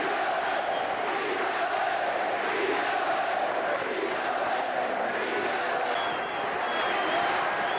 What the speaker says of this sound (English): in a tribute to the 76ers, the crowd chorused,